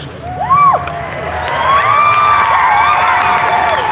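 Convention crowd at a Helluva Boss cast panel cheering and whooping, a loud sustained wash of shouts and applause building after a brief swell, with no talk over it.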